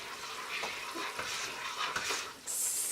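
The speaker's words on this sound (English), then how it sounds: "Sizzling that vanilla, it's hot." Vanilla sizzles as it hits a hot caramel mixture in a pan, a soft steady hiss with small stirring knocks, growing a bit brighter near the end.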